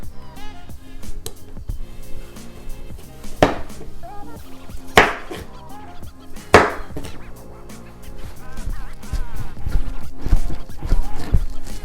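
Knife cutting potatoes into fry shapes on a board, a few sharp chopping knocks over steady background music.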